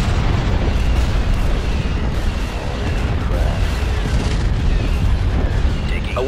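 A space battle in a video game, with laser cannons firing and ships attacking a shield generator, fills the clip with a dense, continuous roar of explosions and booming blasts. The rumble stays loud and steady throughout.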